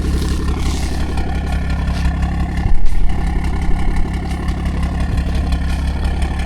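Stage 2+ tuned BMW 340i idling in neutral, a steady low rumble that holds without a break, with a short louder surge near the middle.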